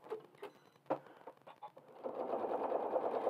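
Sewing machine running steadily through a thick quilt with batting and a quilt label, a continuous close motor whir building after a few softer clicks and handling sounds.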